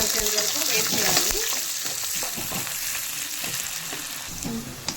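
Dried red chillies sizzle and fry in hot oil for a puri curry, a loud, steady crackling hiss with occasional stirring clatter close by.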